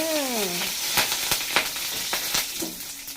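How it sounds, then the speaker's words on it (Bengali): Gondhoraj lemon leaves crackle in very hot sunflower oil, giving a steady close sizzle with sharp pops and spits scattered across the stretch while a voice briefly hums a rising tone at the start. "তেলটা কিন্তু একদম গরম হয়ে গেছে। তার মধ্যে আমি দিয়ে দিচ্ছি গন্ধরাজ লেবু পাতা ফোড়ন।"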